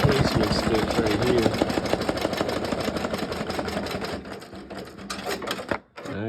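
An embroidery machine sews a placement run stitch for attaching a patch, a dense, steady mechanical chatter of rapid needle strokes that continues for several seconds, then thins out and stops briefly near the end.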